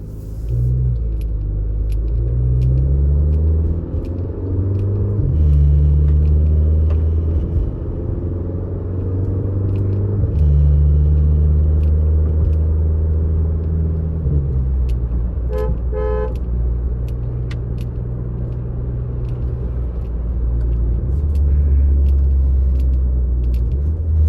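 Skoda Superb engine driving and downshifting, a steady loud low rumble with rising and falling revving steps through the gear changes, and a brief chiming or jingling tone in the middle.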